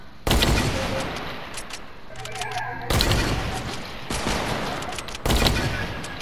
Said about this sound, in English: So, this is the new sniper.